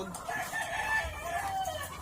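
Chickens cluck and a rooster crows faintly in the background at an egg farm in Bulacan, a steady farmyard murmur with no one speaking.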